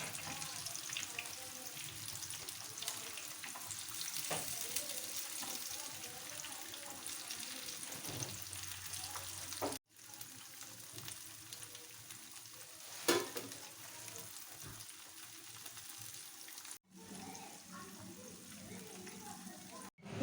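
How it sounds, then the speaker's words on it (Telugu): KFC-style chicken fries in hot oil with a steady, quiet sizzling crackle that goes on throughout, broken by brief pauses and a few scraping stirs. "ఒక సైడు ఫ్రై అయింది, ఇంకో సైడు"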